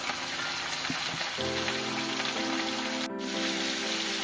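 Stalks, pumpkin and potato pieces sizzle in a pan of hot oil, a constant soft crackling hiss at moderate distance, with a faint steady hum and a few light clinks.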